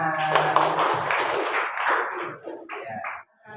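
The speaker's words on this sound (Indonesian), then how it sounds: "Boleh tepuk tangan." A class of schoolchildren claps their hands in a burst of applause that lasts about two seconds, then thins out and fades.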